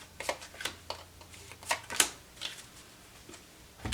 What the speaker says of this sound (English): Sometimes I can shuffle and sometimes I just can't.